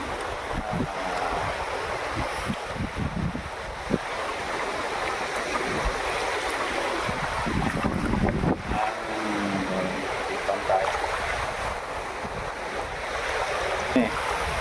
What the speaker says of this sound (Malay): ini pantai dia sekarang kami berada di pesisiran air